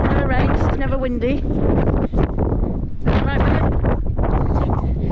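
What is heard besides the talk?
wind blowing on the seafront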